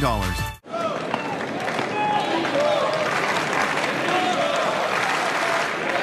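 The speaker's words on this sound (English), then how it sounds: "And the crowd urging him on." A large tennis crowd at the French Open claps and cheers, a broad sustained roar of applause following a brief cut-in, with a commentator speaking over it.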